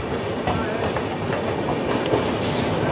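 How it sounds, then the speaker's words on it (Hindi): A train of ICF coaches rolls past close alongside, a dense, steady roar of wheels and rattling carriages with a faint high squeal near the end. "अभी साइड से एक ICF कोच वाली ट्रेन, कौन सी ट्रेन है नाम नहीं पढ़ पा रहा हूँ"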